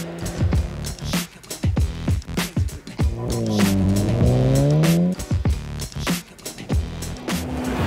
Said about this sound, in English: This engine is wicked.